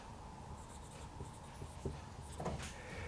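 Chalk or marker tapping and scratching across a board as math is written during a physics lecture, faint scattered strokes over a steady room hum.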